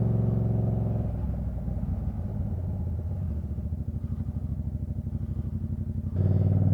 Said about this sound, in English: I'm riding a Gen 1 MT-07?